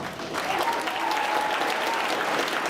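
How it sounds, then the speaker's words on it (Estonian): Audience applause at a youth talent show, a loud, steady wash of many hands clapping from a crowd, continuous from start to finish. "aplaus ka talle"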